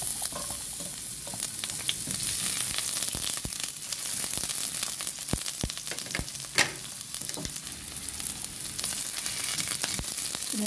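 Onion frying in a pan as the base for pork adobo, a steady loud sizzle with stirring scrapes and clicks of the utensil scattered throughout, no voices.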